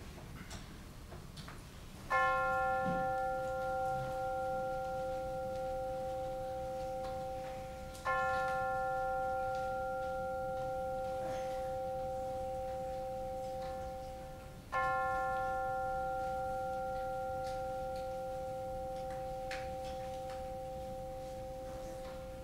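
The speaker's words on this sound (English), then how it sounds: "let us center our hearts and minds with the ringing of the chime." A chime rings three times at a Unitarian church service, each clear bell-like strike ringing out and slowly decaying before the next, spaced several seconds apart over a quiet room.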